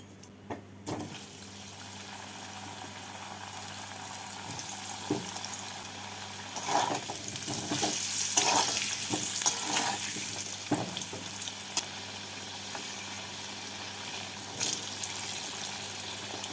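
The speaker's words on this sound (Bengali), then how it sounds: "তেলটাকে ভালো করে গরম করে নিয়ে এর মধ্যে আলুগুলোকে দিয়ে হালকা করে ভেজে তুলে নেব" Steady sizzling and bubbling of potatoes frying in oil, with occasional clinks and stirring noises over a constant low hum.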